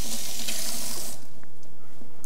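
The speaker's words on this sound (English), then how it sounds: "I'm just gonna wash my hands quickly." Kitchen tap running steadily into a sink while someone washes their hands, a loud hissing water stream that cuts off partway through, leaving quiet room tone.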